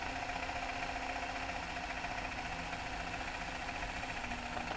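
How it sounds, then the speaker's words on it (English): A sewing machine does zigzag free-motion embroidery stitching, running steadily at a constant hum, its motor whirring without pause, with no talking. "now I'm gonna do the zigzag"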